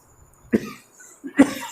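A teacher coughs twice, sharp close bursts about a second apart, with a bit of throat noise in between in a quiet room.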